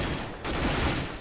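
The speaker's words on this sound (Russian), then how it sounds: "Только что Самуэль выстрелил Дизаху в задницу, оставляя 12 хп" Gunfire from a competitive video game playoff match, a dense burst of rapid shots with a brief gap partway through, loud and continuous with no speech over it.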